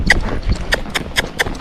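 A gaited horse moves in its saddle gait, its hoofbeats falling in a quick, even four-beat clip-clop, close and clear.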